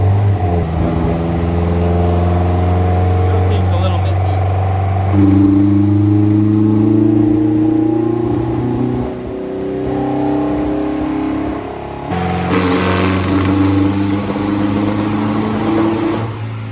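A car engine revved by working the throttle pedal during tuning, loud and close, with sustained rising and falling revs, a dip in the middle and a sharp jump back to higher revs near the end, no talking.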